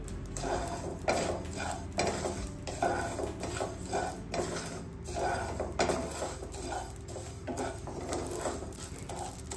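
Amaranth (rajgira) seeds dry-roasting in a pan, with steady clattering and scraping of a utensil against the metal throughout, small crackles of popping mixed in; close, fairly loud and continuous with no talking.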